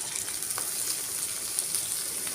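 Green chilies and shredded cabbage fry in hot oil for vegetable noodles, a soft, steady, close sizzle with faint crackles throughout.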